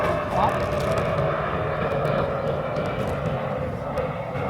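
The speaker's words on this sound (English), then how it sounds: "There's an aeroplane going overhead." An aeroplane flies overhead, a steady, moderately loud droning rumble that holds for several seconds behind a person talking indoors.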